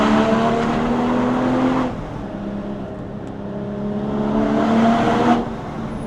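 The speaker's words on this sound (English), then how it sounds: "GTS exhaust note, and some of the intake as well, I'm sure, was just so pronounced" Porsche 981 Cayman GTS exhaust booming inside a tunnel, two strong surges of engine roar echoing off the walls with a quieter lull between them, loud and close.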